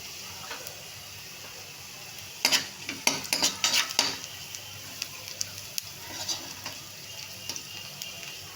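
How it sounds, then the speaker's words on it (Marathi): Cabbage with turmeric and salt sautés in oil under a quiet hiss, broken by a burst of spatula scrapes and clatters against the pan, then lighter scattered taps. "तेलामध्ये चांगलं परतून घ्यायचं"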